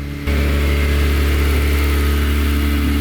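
Honda CRX Si engine revving in first gear while driving, a steady loud mid-pitched engine drone that kicks in abruptly after a brief quieter start and holds strong throughout.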